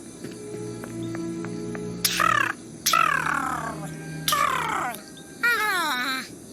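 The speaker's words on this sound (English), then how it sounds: "I hear a bird, Holmes." Within the Sherlock Holmes: Nemesis video game, a bird gives four harsh, crow-like caws spaced a second or so apart, loud and close over a low ambient game hum with a few faint earlier tones.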